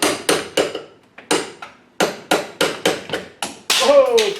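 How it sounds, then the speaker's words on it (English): Repeated hammer blows drive a bolt out of a Ford 9 inch rear end, about a dozen sharp metallic strikes in an uneven rhythm, close and loud, ending in a ringing hit. "Now I'm going to hammer this bolt out."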